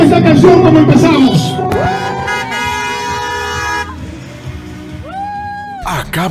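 Several car horns honk in bursts, some long sustained toots and some short, loud and close, over vehicle rumble and brief voices.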